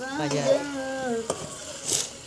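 Chicken frying in oil on a clay stove gives a brief, steady sizzle, with a voice-like tone and a couple of clattering knocks over it.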